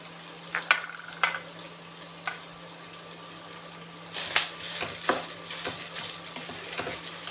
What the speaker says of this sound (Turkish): Biberlerimiz de hafif kavrulsun.